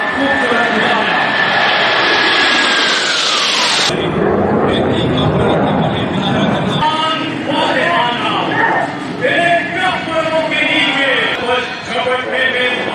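A military helicopter flies past at the Pakistan Day parade at Shakarparian Parade Ground, Islamabad. A loud, passing whine drops in pitch over the first few seconds, then fades into crowd noise while a commentator speaks.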